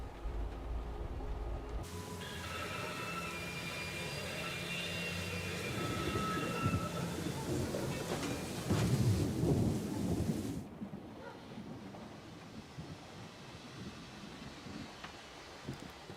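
Thunderstorm with rain in the video game Syberia: The World Before, a steady wash of rainfall broken by a long rolling thunder peal that swells loudly and then fades back to rain.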